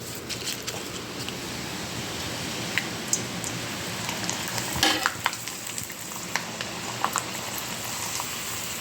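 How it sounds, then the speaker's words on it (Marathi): Something fries steadily in hot oil with a bubbling sizzle, while occasional sharper crackles and a few stirring clunks sound nearby. The frying carries on evenly and no one speaks. "असं आता मी तळून बघते कसे होता येते"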